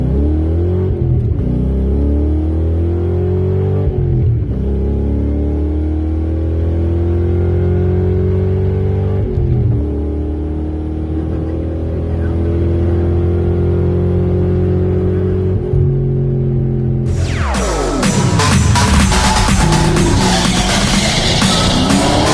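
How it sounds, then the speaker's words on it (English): A 1997 Ford Mustang at a Ford Fest drag strip revs its engine in rising and falling sweeps, then roars loudly into a hard launch near the end, with no talking. "Ethan Norris coming up in the 97 Mustang on the Jag side."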